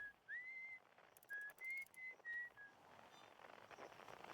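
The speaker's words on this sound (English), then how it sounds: "Oh, it's you who's whistling." A character in the video game Outer Wilds whistles a short melodic tune of several clear, separate notes, each held briefly, standing alone over a quiet ambient background.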